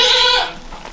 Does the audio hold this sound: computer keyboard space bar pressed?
no